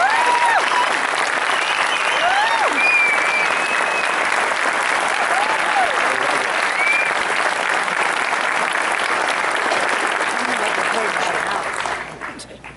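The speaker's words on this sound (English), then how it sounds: "I'd like to get a big round of applause for Captain Clark." A crowd applauds a fire academy captain at a recruit class ceremony, steady loud clapping with cheers and whoops over it for about twelve seconds before it fades out.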